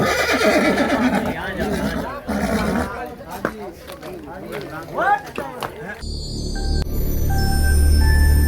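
A mare neighs in a string of shrill, wavering whinnies over several seconds, with voices talking around her. Her calls give way to steadier background noise near the end.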